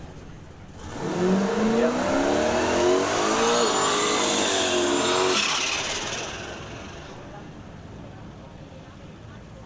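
A Mark II Cortina drag car makes a bye run at Melbourne Raceway in York. Its engine roars loud and rising as it accelerates hard down the strip, then fades into the distance, with a brief spoken word over it.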